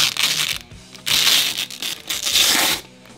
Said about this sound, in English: Time to hear one of the most satisfying sounds of every unboxing, the plastic peel